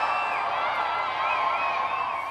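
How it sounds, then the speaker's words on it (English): About two hundred people outside a courthouse in Maine at midnight cheer and whoop for a newlywed same-sex couple, two grooms. The sustained, dense crowd roar holds steady throughout with high shouts on top. "That is the sound of 200 people cheering the groom and groom"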